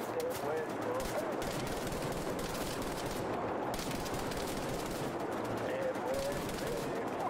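Dense, continuous rapid gunfire in the shooter game Wolfenstein: The New Order, with rattling automatic bursts layered over a steady din of combat effects, loud and unbroken, with a voice speaking faintly beneath.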